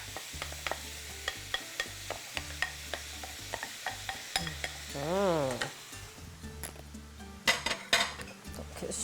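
Rabbit goes into a frying pan with mushrooms, garlic, salt and pepper, bringing sizzling with regular utensil taps and scrapes and a few louder clinks near the end, with no talking.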